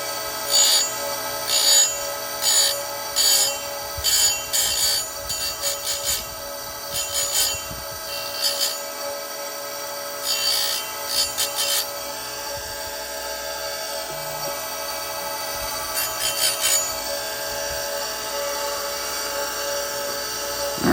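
An Oregon 410-120 chainsaw chain grinder fitted with a CBN wheel makes a series of short, bright grinding swipes in quick repeated bursts, with a steady motor hum underneath and no talking.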